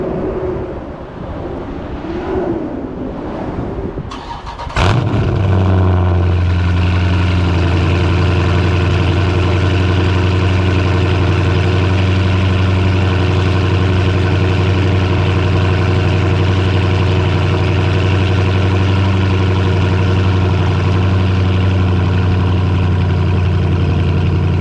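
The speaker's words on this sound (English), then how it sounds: "So I'm gonna give you a little cold start right now" Dodge Charger with a 392 engine cold starting after a few seconds of quiet, the starter catching into a loud, deep, steady idle close by.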